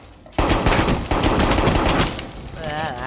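A Rainbow Six Siege gun opens up suddenly in rapid automatic bursts, loud and close, with a brief pause before the fire resumes and trails off under a faint voice.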